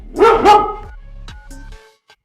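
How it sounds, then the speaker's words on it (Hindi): Dog barking, two loud close barks in quick succession followed by softer trailing yelps and a faint final sound. "वही महिला फिर से दौड़ती है और कुत्ता फिर से भौंकता है।"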